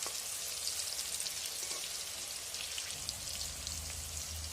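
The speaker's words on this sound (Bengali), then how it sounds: "পটলটা একটু 5-10 মিনিটের মতো সময় লাগে ভাজতে" Soft, steady sizzle of pointed gourd frying in oil, a constant fine crackle like light rain, fairly quiet with a low hum underneath.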